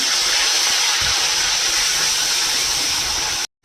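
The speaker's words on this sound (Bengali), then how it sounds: "তেলের মধ্যে আমি একটা বড় পেঁয়াজ গ্রেট করে রেখেছিলাম দিয়ে দিলাম" Grated onion added to hot oil sizzles loudly and steadily, a dense, even hiss that holds close and constant for over three seconds, then cuts off abruptly, with no talk.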